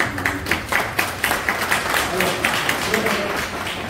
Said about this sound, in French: Je vais vous demander quand même de m'applaudir.